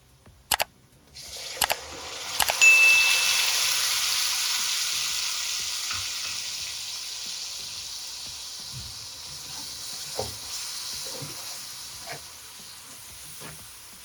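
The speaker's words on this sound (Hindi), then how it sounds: "अब देखिए 1 मिनट तक लहसुन और अदरक भी अच्छी तरह से भून चुका है" Steady sizzling of garlic and ginger paste frying in a hot pan, with a few sharp clinks and stirring scrapes early on, then a continuous hiss throughout.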